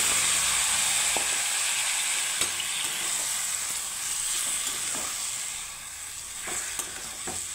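Washed mango pieces sizzle in hot mustard oil with white mustard seeds in a wok, a constant bright frying hiss with occasional clinks and scrapes of stirring, close and fairly loud, without speech.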